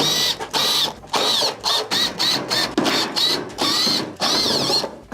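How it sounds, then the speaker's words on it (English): A power screwdriver backs Phillips screws out of the top panel of a Whirlpool stove. It gives repeated close, loud bursts of whirring, each lasting a fraction of a second to about half a second, with short pauses between. "remove the top panel by taking out all of the Phillips screws around the perimeter"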